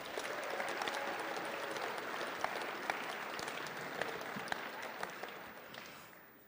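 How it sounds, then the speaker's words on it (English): A room claps for the team at the GPL Fall Awards Ceremony, a steady, moderate roll of applause with a few louder individual claps that fades out at the close. "Give that whole team a round of applause."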